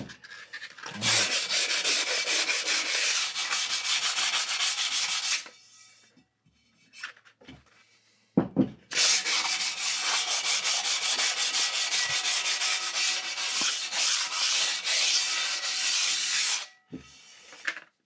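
A hand grinder works over a fired ceramic pottery sink in two long bursts of steady, loud abrasive rubbing and hiss, with a short quiet gap and a brief scrape between them.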